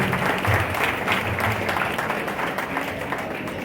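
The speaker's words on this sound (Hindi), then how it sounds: "एक बार जोरदार तालियां हो जाए हमारे इस ग्रेट परफॉर्मेंस के लिए" Sustained audience applause for a band performance at an Independence Day event, dense steady clapping from a large crowd throughout at fairly even loudness.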